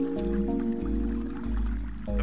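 Water sloshing in the Wii game Fluidity as the remote is tilted, heard as soft drips and squishy liquid movement over a steady low electronic hum and tonal game music.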